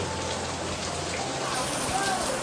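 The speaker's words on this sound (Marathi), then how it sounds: "कोकणात मुसळधार संततधार पाऊस" Heavy, continuous monsoon rain in Konkan pours steadily as a dense, unbroken hiss close by, with no talk over it.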